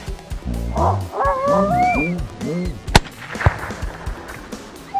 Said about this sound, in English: right behind us, directly behind us, 90 yards, this coyote going, just challenges us